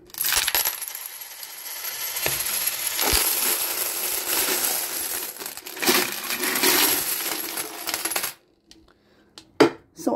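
Dozens of 20 peso coins pour out of a savings container in a long, dense metallic jingling cascade that ends in a few last clinks and single coins settling.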